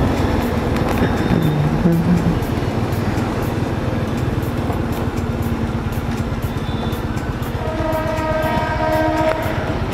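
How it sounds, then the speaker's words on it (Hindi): A train passes close by on a drive from Bhubaneswar toward Kolkata, with a steady rumbling roll of wheels throughout and a loud, sustained multi-tone horn sounding near the end, no talk over it. "ट्रेन की आवाज़ आ रही होगी"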